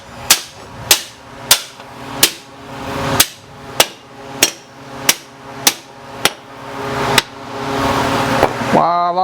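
About a dozen sharp, evenly spaced hammer blows ring out on staggered steel leaf spring leaves, bolted together for a rat rod build, each strike loud and close with a metallic decay, and a brief voice-like tone at the very end.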